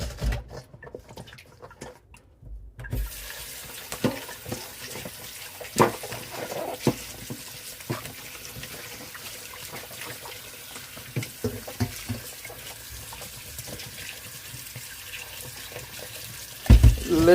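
Tap water runs steadily as vegetables are rinsed in a sink, a continuous splashing hiss with brief clatters and handling knocks, after a short quiet start.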